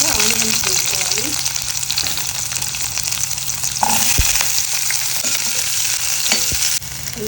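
Onions hit hot ghee already crackling with mustard seeds, cumin and chana dal in a pan, giving a loud, continuous sizzle with scraping stirs and occasional knocks of a spoon against the pan.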